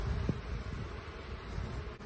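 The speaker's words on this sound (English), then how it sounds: "Bees on the lid." Honey bees on the lid of an opened beehive during an inspection, a soft, steady buzz close by that holds faint and even throughout.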